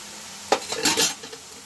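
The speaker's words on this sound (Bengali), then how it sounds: "ভালো করে আমি ডিমটার সাথে লাউটাকে মিক্স করছি, একদম সুন্দর করে মিক্স করে নিতে হবে।" Egg is stirred together with boiled bottle gourd in a bowl, giving a brief, close run of soft clinks and wet scraping lasting under a second, with no talk.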